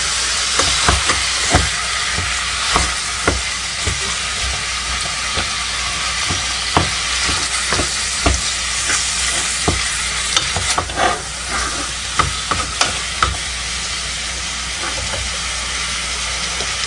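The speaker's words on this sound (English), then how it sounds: "Put my hamburger. And I brown that." Hamburger meat browns in a pan for chili, a constant close sizzle broken by frequent sharp spoon scrapes and taps as it is stirred.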